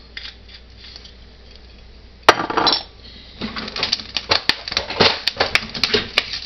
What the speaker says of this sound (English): Seems I got something on the side here that's spattering.